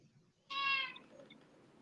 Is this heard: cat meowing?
yes